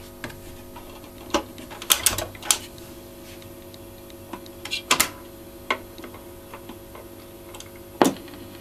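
Record changer with stacked 45 rpm singles, its tone arm dropping into position after a small lever is flicked upward: scattered mechanical clicks and light knocks at irregular intervals over a faint steady hum, close by.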